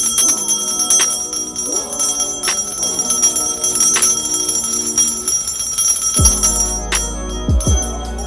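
A bright bell rings repeatedly in quick, shimmering strikes, loud and close, with ringing tones layered over one another and a lower swooping chime near the end, added as a playful effect in a product review.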